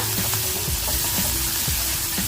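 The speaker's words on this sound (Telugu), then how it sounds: "కొద్దిగా సాల్ట్ వేసుకుందాం తొందరగా వేగిపోతాయి ఉల్లిపాయలు" Onions frying in a pan after salt is added, a dense continuous sizzle with soft stirring clicks repeating every half second or so, close and fairly loud, no voices.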